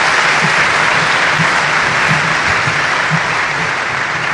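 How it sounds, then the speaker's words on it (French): Audience applauding the first lady of the Republic at a formal gathering with invited guests, dense sustained clapping that fills the whole stretch, loud and steady with no talk over it. "je voudrais qu'on applaudisse très fortement la première dame de la République."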